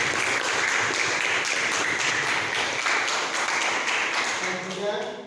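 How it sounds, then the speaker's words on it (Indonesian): Applause from a classroom of students during a PAI lesson, steady and fairly loud throughout, with speech mixed into the clapping and thinning slightly at the end. "Tepuk tangan untuk Ananda Hasan."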